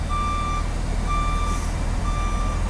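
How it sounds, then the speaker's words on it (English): A 162 city bus at North Hollywood Station idles with a steady low engine rumble while a reversing alarm beeps three times at an even, slow pace. "That's the 162 bus, by the way, in North Hollywood Station."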